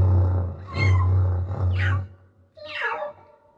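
A person imitates a cat meowing, giving a few drawn-out mews of rising and falling pitch, close and fairly loud.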